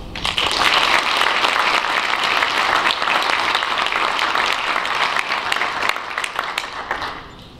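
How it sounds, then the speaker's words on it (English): An audience claps for the honor graduates of a class at a graduation ceremony, a steady, dense round of applause filling the hall for about seven seconds before tapering off at the end. "Please join me in a round of applause for the honor graduates of Class"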